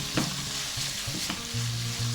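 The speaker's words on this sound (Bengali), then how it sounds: "মশলাটা খুব ভালো করে কষাতে হবে।" Spice paste being sautéed in a pan for a Dhaka-style hilsa curry, with steady frying sizzle broken by several loud, close scrapes of a stirring spoon, then a sustained hum near the end.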